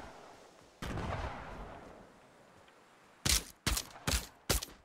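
Gunfire in the Splinter Cell video game: one broad burst early on, then four sharp, loud shots in quick succession near the end, over a quiet background.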